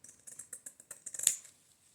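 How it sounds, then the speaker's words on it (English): Scissors cut through upholstery fabric scraps in a quick run of close, crisp snips, about a dozen in two seconds, ending in a louder final snip. "let me see if I can cut straight now"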